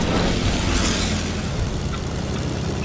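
A plane engine in the video game Fortnite drones as a loud, steady, broadband roar that stays continuous throughout.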